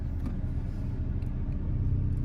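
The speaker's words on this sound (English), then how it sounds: "it's idling right now" A car engine idles at a steady low rumble inside the vehicle, a continuous close drone with no revving.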